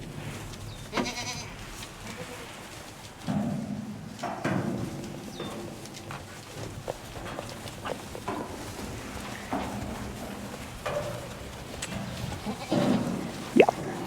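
Goats at a sale barn bleating repeatedly, with several calls of varying loudness spread across a busy background of birds cooing and barn noise.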